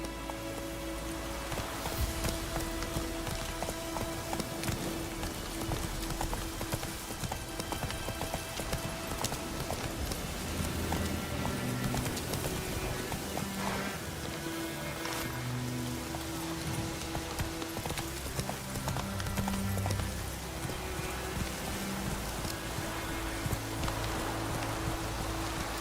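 Horse galloping through rain in The Witcher 3, with steady clip-clop hoofbeats under a constant wash of rainfall and a low musical score, continuous and fairly loud throughout.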